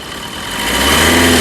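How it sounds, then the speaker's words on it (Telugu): A 2019 Maruti Suzuki Brezza ZDI AMT diesel engine idles close up with a steady, quiet, low hum that swells slightly louder over a brief moment. "ఇంజన్ యొక్క నాయిస్ చాలా సైలెంట్గా అయితే ఉంది"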